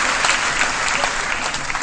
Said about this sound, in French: Monsieur Mansour Kama, sur vos applaudissements